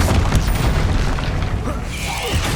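Bombarda explosion spell in a Hogwarts Legacy fight, a deep booming blast that rumbles on with a rising whoosh near the end, game voices faintly mixed in.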